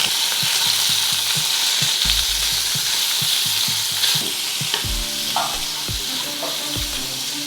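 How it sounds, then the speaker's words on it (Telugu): Paneer pieces fry in a little oil for a paneer curry, a loud steady sizzle with rhythmic spatula taps and scrapes against the pan, no speech. "ఇప్పుడు పన్నీర్ కొంచెం వేయించుకుందాము. 2 టీ స్పూన్స్ ఆయిల్ వేసుకోవాలి. దాంట్లో పన్నీర్ ముక్కలు వేసుకోవాలి."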